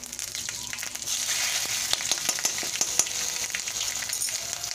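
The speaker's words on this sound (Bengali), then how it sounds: "পাঁচফোড়নটাকে ভালো করে আমি ভেজে নিলাম" Panch phoron spices frying in oil in a kadai, the same oil used earlier for frying bora, give a steady close sizzle with crackling pops and scraping stir sounds throughout.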